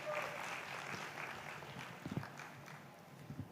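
A summit audience claps in a soft, scattered patter that thins toward the end, faint and somewhat distant in a large conference hall.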